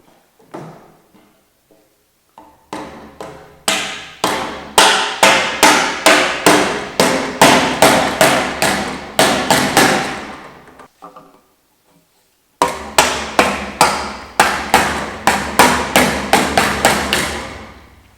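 Hammer tapping plastic end caps into square steel tubing: a rapid, even series of sharp knocks, roughly twenty in a row, then a brief pause and another run of about ten blows, loud and close.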